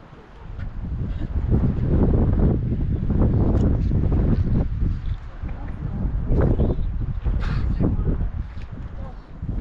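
Wind blows steadily across the microphone at Norris Geyser Basin in Yellowstone, a loud, rumbling gusty roar that swells and eases. Voices are heard faintly beneath it.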